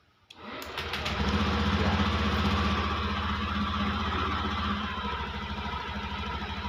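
A Honda Beat scooter engine catches after a direct-wired starter test and settles into a steady, fairly loud idle that runs throughout, with a single brief spoken word near the start.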